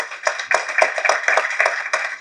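Wedding audience clapping to welcome guests at the wedding of Umapathy Ramaiah and Aishwarya Arjun, a loud, dense, continuous patter of many hands close by with no speech.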